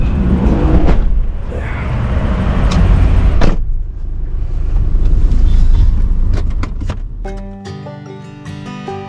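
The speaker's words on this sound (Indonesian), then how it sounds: "akhirnya bus Damri ini tiba juga ya di Palbatam" A Damri bus pulls into Pal Batam with a loud, continuous engine and road rumble, a few sharp knocks, then quieter tonal beeping as it settles.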